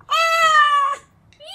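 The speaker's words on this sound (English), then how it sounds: "I've typed in angry cat." A synthesized angry cat sound effect: one drawn-out, strained meow close up lasting nearly a second, then a shorter rising yowl starting after a brief pause.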